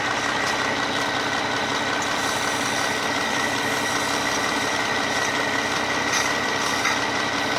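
A car engine, after a tap-water engine decarbonization treatment, runs at a steady idle, a constant, even drone with no change in revs and no talking.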